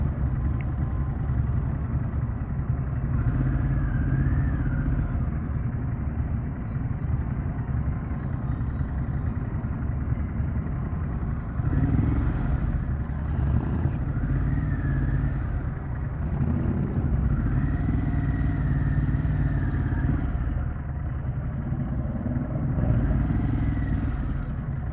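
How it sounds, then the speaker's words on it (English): A large gathering of motorcycles rumbles and idles together at an outdoor market meet, a dense, steady low engine drone with occasional louder revs rising above the crowd of bikes. "Wow, there's a lot of bikes here."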